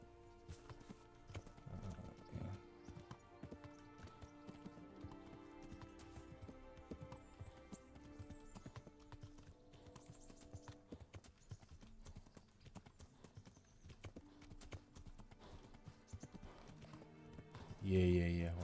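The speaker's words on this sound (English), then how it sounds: "Yeah, horsey." Horse hooves clip-clop at a steady pace in the medieval game Kingdom Come Deliverance, a continuous rhythmic beat under game music with light talk, ending in a brief loud thump.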